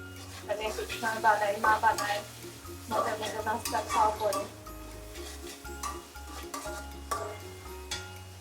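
Food frying in a pan in a home kitchen, with a steady sizzle under stirring and utensil scrapes while a person talks in the foreground through most of the stretch.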